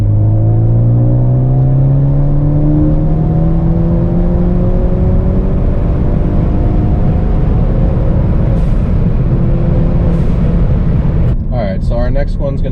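A Ford Focus ST accelerates at open throttle in third gear, its engine note rising steadily and loudly from inside the car over several seconds before easing off near the end.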